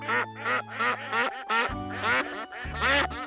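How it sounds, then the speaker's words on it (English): Several ducks on the River Yonne quack in quick, repeated bursts close by, loud and clear, with a steady low hum running underneath and no voices. "The ducks are amused."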